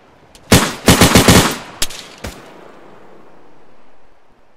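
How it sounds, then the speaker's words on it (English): Incoming gunfire in Arma 3: a sharp isolated shot, then a rapid close burst of automatic fire, followed by two more single loud cracks that trail off into quiet ambience. "We're taking shots from something else that I have no eyes on."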